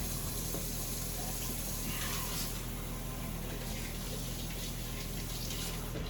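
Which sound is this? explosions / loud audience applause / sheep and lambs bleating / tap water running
tap water running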